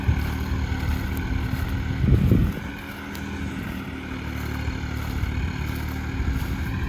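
A Massey Ferguson 255 tractor plowing a field with worn plow blades, a steady loud low engine drone with a brief labouring swell near the middle and wind buffeting the microphone.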